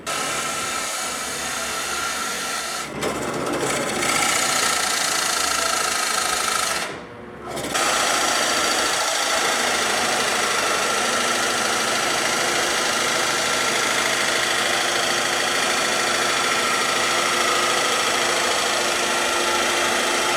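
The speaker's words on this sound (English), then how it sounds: "The drill press is quiet, almost sounds a little bit pleasant and relaxing" A steady mechanical whir of a drill press cutting holes in hardwood runs throughout, with a brief dip and a short pause partway through before the grinding hum resumes.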